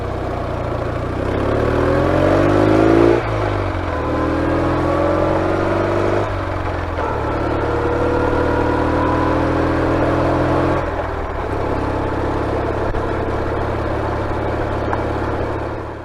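A BMW R69S flat-twin motorcycle accelerates through several gears, each shift breaking a rising engine drone that climbs again, heard close and fairly steady with no talking.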